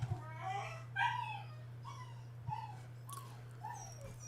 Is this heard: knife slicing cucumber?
no